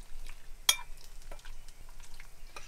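Chicken fajita ingredients with lime juice get stirred together in a bowl: faint, scattered wet clicks and light scrapes, with one sharper utensil knock standing out, quiet and close.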